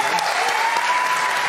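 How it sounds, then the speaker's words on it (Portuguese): A studio audience applauds on a Brazilian late-night talk show, a steady, dense wash of clapping that fills the whole moment at close, even loudness. "O povo aplaude porque tem feriado"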